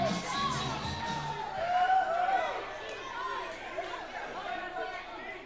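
A packed crowd at the APWF Nightmare at the Kastle wrestling event chatters steadily, with a few scattered cheers and whoops rising through the noise.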